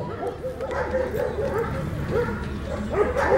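A dog barks and yips at an Argentine sheepdog show, with repeated short calls over a busy, crowded background murmur at moderate distance.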